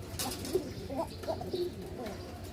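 A breeding pair of pigeons in a coop fitted with nesting pots gives soft, low, repeated coos close by, in a steady murmuring series.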